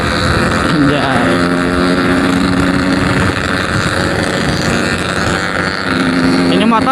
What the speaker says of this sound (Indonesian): Ini motor enak buat kebut-kebutan ya, putaran bawahnya agak ngebrebet, terlalu boros kayaknya.